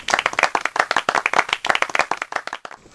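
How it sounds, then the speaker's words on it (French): Clapping from a French television studio audience, a fairly small group whose individual claps stay distinct, brisk and close, stopping abruptly near the end. "Monsieur Chevalier Laspalès, on les applaudit."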